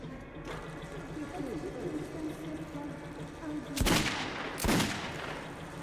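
Gunshots at a shooting range in the video game Metro 2033, with two sharp, loud close shots spaced about a second apart over continuous game ambience, while a person talks underneath.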